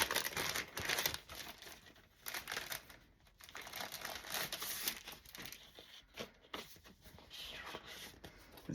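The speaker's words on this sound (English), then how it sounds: "I'm going to pull out the sticker sheet" A sticker sheet for a Halloween mini album is pulled out, giving soft, close crinkling and rustling of paper in irregular bursts with brief pauses.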